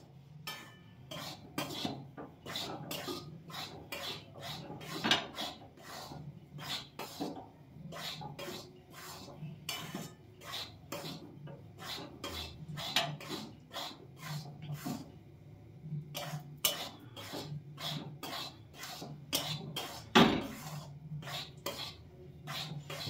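Flour roasting and being stirred in a hot wok for rohu fish bait, a steady run of scraping, clinking utensil strokes against the pan over a low background hum, close and moderately loud with no speech.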